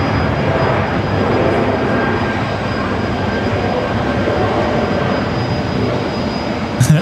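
At Brisbane Airport on a rainy night, a jet airliner rumbles steadily from a distance as it lines up on the runway, a broad, even roar with a faint high whine above it.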